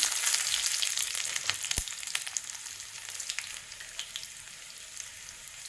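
Onion frying in a pan for a finger millet and dal dosa, a bright continuous hiss of sizzling oil with a sharp knock early on, close and steady, fading slightly toward the end with no talking.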